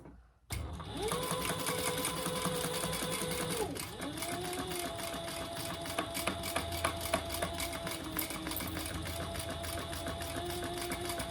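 A Sailrite sewing machine stitches a shoulder bag seam across thick D-ring handle connectors, starting abruptly into a steady mechanical whir with rapid needle ticking, a brief pause and restart, then continuing its even rhythmic hum close up.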